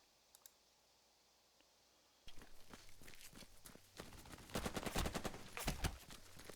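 Machine gun fire in the Burden of Command war game begins after a quiet stretch. Sharp shots follow in quick clusters that grow louder and denser toward the end.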